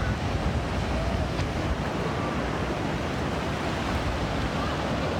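Ocean surf rolls onto the beach at Belmont, San Diego, a steady, loud wash of breaking waves with wind noise, continuous throughout and with no clear voices.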